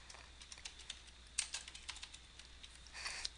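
Quiet computer keyboard typing, with a run of soft, quick key clicks at an uneven rhythm and a slightly busier burst near the end.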